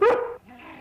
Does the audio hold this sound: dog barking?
yes